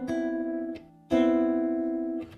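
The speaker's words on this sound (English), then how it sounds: "I love this sound of a cluster chord." An electric guitar sounds a dense cluster chord twice, each strum ringing and sustaining with a brief scratchy attack, the second strum louder than the first.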